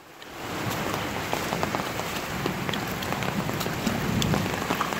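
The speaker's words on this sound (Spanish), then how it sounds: "¡Qué bombazo de agua! Y se nos vino hasta con viento." Heavy, steady downpour during a windy thunderstorm near a river, a dense continuous hiss of rain hammering surfaces with scattered sharp drip impacts, loud and unbroken throughout.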